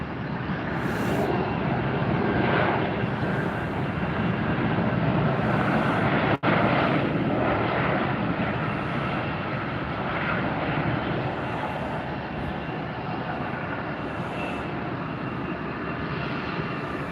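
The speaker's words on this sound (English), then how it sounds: "Wow, wasn't that a pretty landing?" A fixed-wing airliner landing at Tampa airport, its engine roar loud and steady throughout, close and continuous with one brief sharp click partway through.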